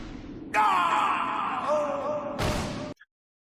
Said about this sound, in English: Can I get a replay on that scream real quick?